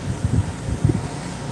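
A box fan or air conditioner blows steady air into a nearby microphone, making a continuous broad rumbling wind noise with a few gusty low thumps.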